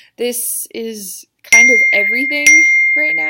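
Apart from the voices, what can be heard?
mobile phone notification going off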